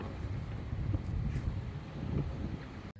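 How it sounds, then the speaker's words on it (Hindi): Strong, gusty wind blows across the microphone outdoors on a late-morning day in the UK, a steady low roar with rising and falling buffets throughout, cutting off abruptly near the end. "बहुत ज़्यादा हवा चल रही है तेज़ तेज़"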